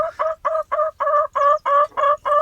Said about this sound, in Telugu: ఇది గుడ్డు పెట్టే కోడి ఇట్లా సౌండ్ చేస్తారు అనమాట